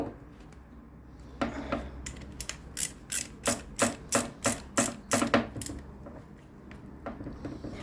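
A ratchet clicks in a quick, even series of sharp metallic ticks while brake caliper bolts are tightened on a Suzuki GSXR 600/750 K4-K5 motorcycle, close and distinct, then stops.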